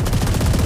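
Rapid automatic gunfire in a multiplayer first-person shooter match, a dense, loud burst of close shots in fast, even rhythm lasting under a second.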